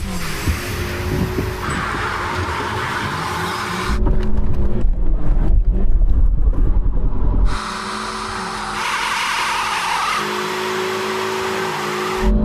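Mercedes, BMW and Audi car engines roar at the start of an endurance race, loud and close. A throaty rumble surges and swells midway, then settles back into steady revving.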